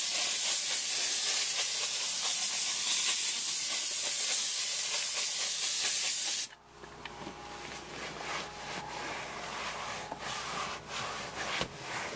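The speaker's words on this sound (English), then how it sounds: "So what I'll do is just hit it with some steam." A handheld steamer hisses loudly and continuously onto a leather car seat for about six seconds, then cuts off, leaving quieter rubbing and scrubbing sounds.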